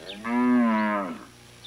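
A single long, loud moo from Maasai cattle in a village herd, a rich droning call lasting under a second and heard close with no talk over it.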